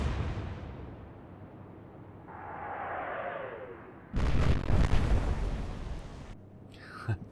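Naval guns fire in the Atlantic Fleet game during a Royal Navy battleship engagement, a muffled rolling boom followed by a louder sharp blast and rumbling aftermath, with distant whooshing shell sounds between.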